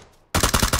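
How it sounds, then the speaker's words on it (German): Rapid automatic gunfire in the video game PUBG bursts in after a near-silent moment, a loud close burst of about seven quick shots. "Ah, wir werden beschossen."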